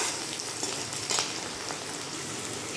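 Chopped onions and green chilies fry in a pan, giving a steady, soft sizzle with faint crackles throughout and one brief louder burst partway through, close by with no talk.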